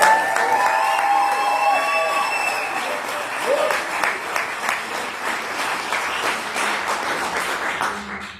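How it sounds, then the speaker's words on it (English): A church congregation claps and cheers for a birthday boy, sustained loud applause with scattered shouts and whoops that gradually eases over several seconds. "While you are clapping, just give us an extra special hand to our birthday boy"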